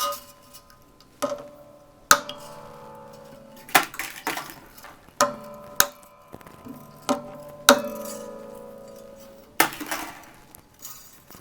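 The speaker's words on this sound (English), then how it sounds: "now we're going to cut off the tails of the strings" A handful of sharp metallic clicks and snips as wire cutters trim guitar string ends, spaced irregularly and close up, each followed by a short ringing tail.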